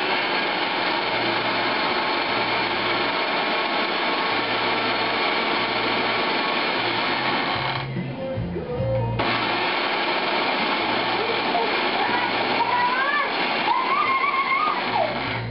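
A food processor pulses gluten-free pie crust dough with a loud steady whirring motor, interrupted by a brief pause of about a second midway before whirring again.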